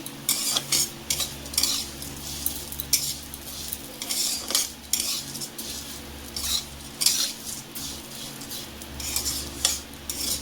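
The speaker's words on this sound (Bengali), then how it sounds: "সিমাইটাকে ভেজে দিচ্ছি" Vermicelli frying in a pan while a utensil stirs it, giving a soft continuous sizzle under repeated scraping and clinking strokes against the metal, close by and with no talking.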